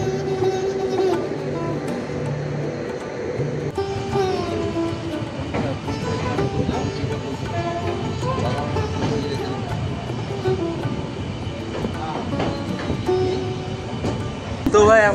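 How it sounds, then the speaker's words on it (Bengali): A passenger train rolls on after pulling out of Malda Town station, a loud, steady rumble with rhythmic rail clatter and metallic tones heard from on board, with faint voices mixed in and a sharp burst near the end. "ট্রেন ছেড়ে দিল মালদা টাউন স্টেশন।"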